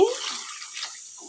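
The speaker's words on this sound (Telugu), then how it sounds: "ఇప్పుడు వాటర్ పోసేసుకుందాం వాటర్ అయితే పోసేస్తున్నానండి" Water poured into a simmering country chicken curry, a brief splashing gush that quickly fades to a soft trickle.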